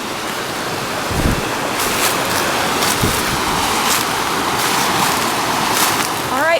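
Water flowing in a creek outdoors, a loud, steady rushing wash with gusts of wind buffeting the microphone and a couple of low thumps, continuous for several seconds.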